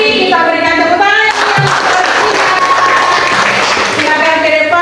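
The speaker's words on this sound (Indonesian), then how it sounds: "Kita berikan tepuk tangan" Classroom applause for a junior high student group about to present, loud mixed clapping from students rising after a voice and continuing steadily.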